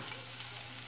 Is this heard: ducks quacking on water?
no